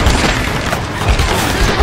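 Loud, dense pistol gunfire in the Tomb Raider video game, sharp booming shots crowding together with no pause.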